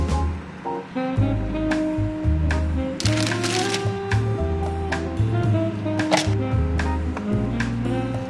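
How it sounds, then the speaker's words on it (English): Tomatoes, cucumbers and jalapenos sliced thinly on a cutting board for a turkey sandwich, giving scattered soft knife taps over steady background music. "I try to cut them as thinly as possible"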